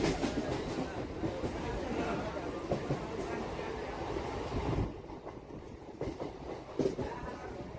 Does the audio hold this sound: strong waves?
no